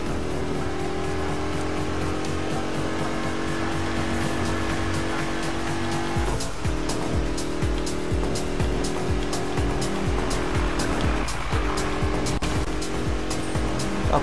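A 1969 Ford Mustang Boss 302 in Need for Speed drives steadily with a loud, continuous engine drone, shifting pitch around gear changes, with brief tire noise over the top.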